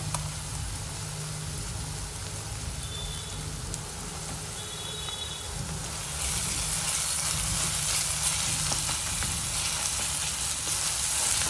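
Ginger-garlic paste sizzles with okra in a frying pan, a continuous dense crackle like rain that grows louder and brighter partway through, with no voices.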